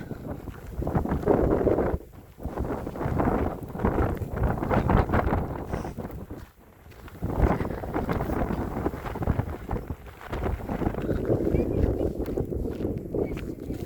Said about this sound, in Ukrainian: Вітер страшне.